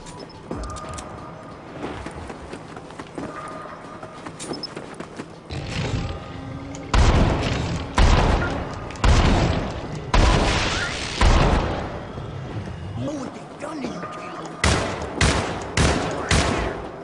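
A sequence of heavy, booming EMP grenade blasts and gunfire bursts in the Syndicate video game, several loud explosions in quick succession after a quieter stretch of battle noise.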